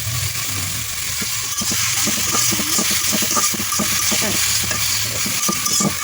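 Dried chillies fry in hot oil for an ivy gourd leaf stir-fry, giving a steady close sizzle broken by frequent sharp clicks and scrapes of stirring.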